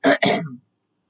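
A single short, close throat clearing, two quick rough bursts, then silence.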